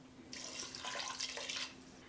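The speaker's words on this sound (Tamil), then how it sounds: "நான் வந்து 2 கப்பு தண்ணி சேர்க்க" Water poured into a pan of mutton curry (kulambu), a steady broadband splashing stream lasting just over a second, close and alone.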